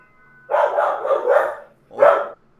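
A dog barks in two bursts: a rapid run of several barks, a short pause, then one more loud bark, close by.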